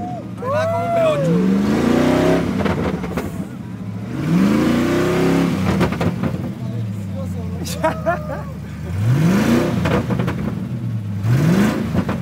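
A Ford Mustang V8 revs in repeated rising bursts that fall back to a deep idle, loud and close, with people talking excitedly over the engine throughout.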